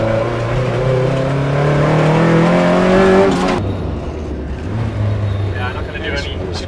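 Rebuilt 4A-GE engine in a Toyota AE86 revving hard, rising then dropping back to idle, loud and close, with a person talking over it.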